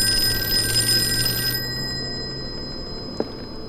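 An old-fashioned telephone rings in the PC game Call of Cthulhu, a loud, steady metallic bell tone that cuts off abruptly partway through, leaving a quiet, dim room ambience with a small knock near the end.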